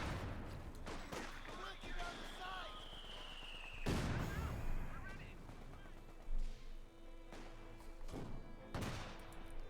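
Gunfire and explosions from the World War II strategy game Company of Heroes 2, with sharp repeated shots and heavier blasts scattered through a busy battle mix, heard beneath a commentator's talking.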